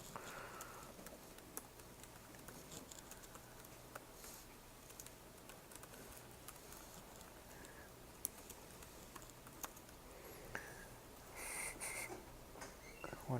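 Typing on a computer keyboard during a lecture session, faint scattered key clicks in uneven bursts, distant and quiet under a steady room hum with no talk.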